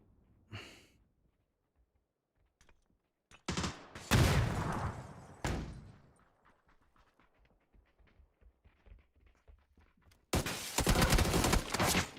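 Gunfire in a PUBG pro-team esports scrim: scattered shots and short bursts in the middle, then a dense, loud sustained volley near the end, with faint voices between.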